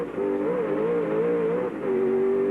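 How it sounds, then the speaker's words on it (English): A race car engine at Calder Park in the 1995 Peter Brock Classic holds a high, steady whine, rising and dipping slightly as it revs over a hill crest, heard alone without voices. "Hear that engine rev as he goes over the brow of the hill"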